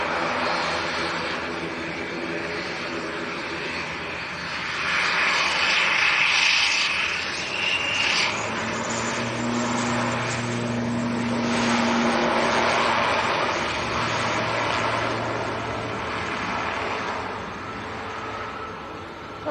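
Aer Lingus airliner departing Manchester Airport for Dublin, a moderate distant jet rumble that swells in the middle and again later, with low engine tones and no voices.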